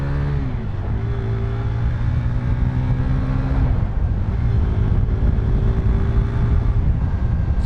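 A motorcycle engine drones loud and close, its tone dropping as the rider shifts and then climbing again as the bike gathers speed, with steady wind rumble underneath and no talk.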